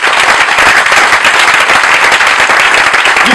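A church congregation claps and cheers for the Lord, a loud, dense wall of applause that stays steady throughout, heard from within the crowd.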